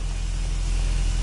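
The Revelio revealing spell is cast in Hogwarts Legacy, giving a loud, steady rushing hiss with a low rumble beneath, even and unbroken for just over a second.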